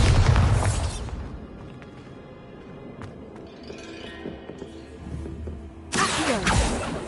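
A Bombarda blasting spell goes off in the Hogwarts Legacy video game: a loud booming burst at the start, a quieter stretch of low rumble and debris, then a second heavy blast near the end.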